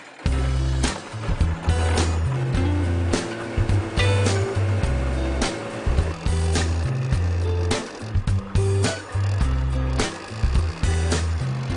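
Small boat outboard motor chugging unevenly in sandy shallow water while out crabbing in Australia, loud and close, with irregular knocks and sputters across the whole stretch.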